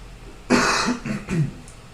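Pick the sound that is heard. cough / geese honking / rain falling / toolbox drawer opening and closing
cough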